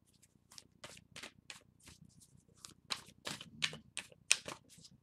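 A deck of tarot cards is shuffled in a string of quick, crisp riffling bursts, close and fairly quiet, quickening and growing denser toward the end.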